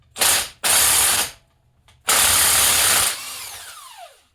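A ratchet loosening the 17mm cam gear bolt on a Yamaha Big Bear 350 ATV engine, heard as loud close bursts of rapid clicking with short gaps between them. The clicking ends in a fading whir, and there is no speech.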